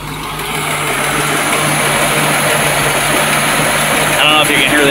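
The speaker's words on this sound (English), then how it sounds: "The blower works." Engine blower running aboard a 1982 Century boat with a freshly serviced engine, a steady even whir under broadband engine noise, close and fairly loud, with a brief higher tonal blip near the end.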